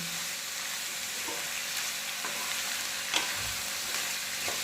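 Cucumber pieces cooking in a pan with a steady, continuous sizzle and frying hiss, with a few light stirring clinks scattered through; no voices.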